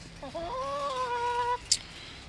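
Hens in a dry, roofed backyard chicken coop give a drawn-out, tonal cluck-call close by, then a short sharp peep, over a quiet background hum.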